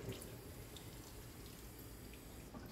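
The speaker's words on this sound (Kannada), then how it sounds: "ನೀರು ನೋಡಿ, ಕೈ ಮುಟ್ಟಿದ್ರೆ ನೀರು ಬರ್ತದೆ." Water runs from an automatic touch-activated tap in a mall restroom, a faint, steady hiss that continues unbroken with no voices.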